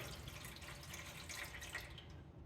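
Water pours slowly and steadily from a jug into a benchtop portable dishwasher, a continuous close trickling and splashing with no talk.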